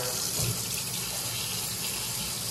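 Hot water gushes steadily from an apartment tap, a continuous rushing splash that stays loud and even throughout.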